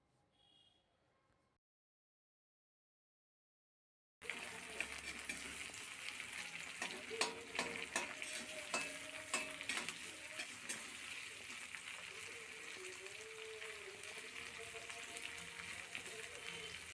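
Chopped onions frying in a pan, a steady loud sizzle with occasional stirring, preceded by a few seconds of near silence before they hit the hot oil.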